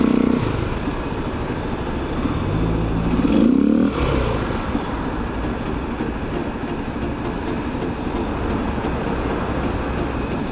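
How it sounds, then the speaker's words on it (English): A motorcycle's radiator fan whirs steadily in hot Hong Kong tunnel traffic, buried in a constant loud roar of engines and road noise that swells briefly near the middle. "Gets hot in that traffic, the bike and the tunnel, and I hear the fan whirling."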